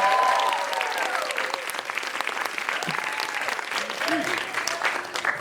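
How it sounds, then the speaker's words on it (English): An audience applauds an alumni panel in a warm, sustained burst of clapping, with scattered voices and cheers mixed in through the crowd. "can we get a round of applause for our panel?"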